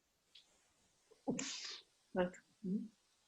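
A sneeze bursts out up close, followed by short voiced sounds; a faint breath precedes it.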